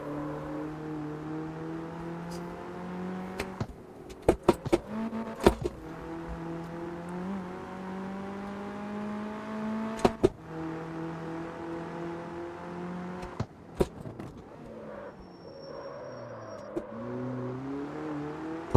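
A car engine in a racing video game revs through steady droning gear pulls, broken by several sharp clunks and a brief downshift, close and fairly loud with no talking.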